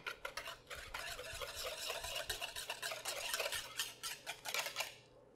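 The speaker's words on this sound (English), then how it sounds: "Now add your whites to your yolk mixture. And we're gonna whisk it in." Egg whites being whisked into a yolk mixture for keto eggnog, a steady run of quick scraping clicks of a whisk against a bowl, close and continuous, with no talk.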